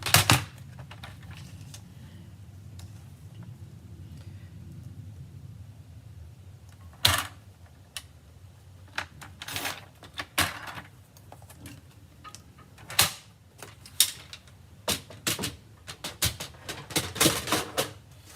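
A white paper piece being cut for a handmade card, with a steady trimming hum followed by a run of sharp, close clicks and snaps that come irregularly and grow more frequent toward the end.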